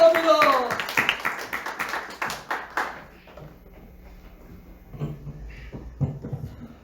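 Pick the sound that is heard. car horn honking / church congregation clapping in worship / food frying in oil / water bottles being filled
church congregation clapping in worship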